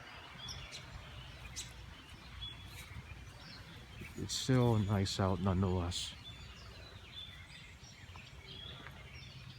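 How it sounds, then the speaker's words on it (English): Faint bird chirps scatter in the background along the Sligo Creek Trail on a cloudy day, while someone speaks briefly in the middle over steady outdoor ambience. "You can hear the sounds of the birds singing around you, and it is just amazing."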